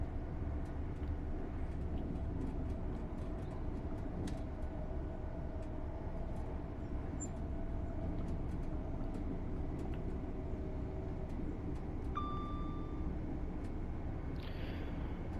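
LNER Azuma train from Train Sim World 6 running steadily, a constant low rumbling drone with rail noise, a brief tonal chime near the end, no talk.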